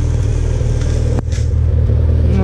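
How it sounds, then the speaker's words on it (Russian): A warmed-up Ford Escort XR3i cabriolet engine idles close by with a steady, even hum, broken by one brief click and a small dip midway. "Вот уже моторчик прогрелся уже."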